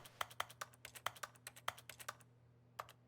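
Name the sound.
computer keyboard key presses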